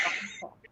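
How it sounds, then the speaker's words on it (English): A brief, raspy throat clearing, one short harsh burst that trails off quickly into faint vocal sounds, close and moderately quiet. "no, I really cleared my throat"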